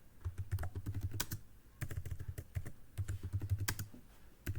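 Code being typed on a computer keyboard in the PyCharm editor, with close, crisp key clicks in quick bursts separated by short pauses, heard alone with no talking.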